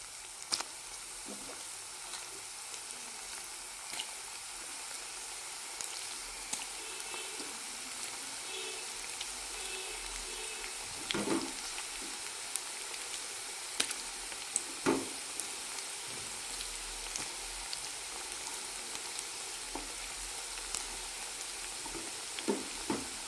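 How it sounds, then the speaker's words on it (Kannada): Onion pakoda frying in hot oil, a faint, steady bubbling sizzle with a few scattered pops and light clinks, heard close with no voices. "ಪಕೋಡ ಹಾಕ್ಕೊಳ್ಳೋಣ ಎಣ್ಣೆಯಲ್ಲಿ."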